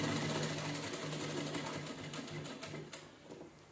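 A sewing machine stitches a blouse seam, a steady continuous mechanical whir running close and fairly loud throughout, with slight fluctuations as the stitching goes on and no talk.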